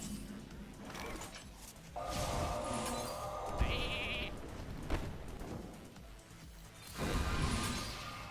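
Polymorph in the Hearthstone video game sounds a sheep bleat, a short nasal wavering cry in the middle, amid card game sound effects, impacts and clatter.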